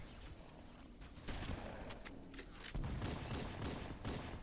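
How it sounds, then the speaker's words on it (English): Enemy gunfire in the Halo: Combat Evolved campaign crackles in rapid bursts around the player, with a steady hiss of battle underneath and several heavier thumps about midway and near the end, fairly faint overall and with no talking. "they're gonna keep shooting at me until I deal with them"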